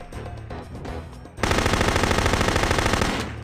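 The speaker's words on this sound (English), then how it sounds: "Luckily, we do have some micro missiles," Micro missiles fire in the video game No One Lives Forever 2 as a loud, continuous rapid barrage of bursts that suddenly kicks in after quieter gunfire and carries on steadily to the end.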